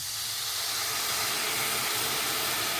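Water poured into a pan of hot caramelized sugar hisses loudly, a strong steady steam rush that stays constant throughout with no talking over it.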